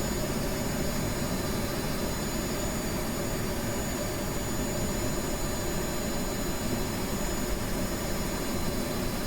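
F-15 Eagle jet engine in the video game Kerbal Space Program, a constant loud roaring whine with a broad hiss, steady and unbroken throughout.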